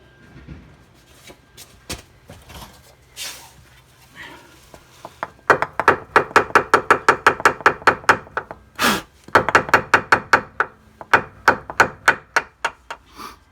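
Mallet tapping a Suzuki SX4 front driveshaft into place: a few scattered knocks, then long runs of rapid, sharp, evenly spaced taps close by, with brief pauses between bursts and no talk.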